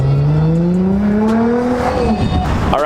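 A loud Toyota Supra at a car meet revs hard nearby, its engine note climbing steadily in pitch for about two seconds before dropping off into a rougher burble.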